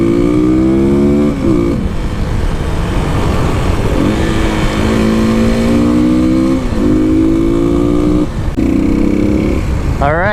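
Dual sport motorcycles, a Kawasaki KLX300, Yamaha WR250R and Suzuki DRZ400, accelerating hard up close, engine pitch climbing repeatedly through gear shifts over constant loud wind and engine roar.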